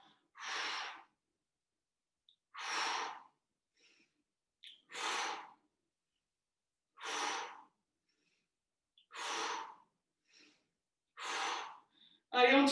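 An adult breathes out forcefully during arm-raising exercises in a gym class, making six breathy exhales spaced roughly two seconds apart, each lasting about a second and separated by silence, close to the microphone.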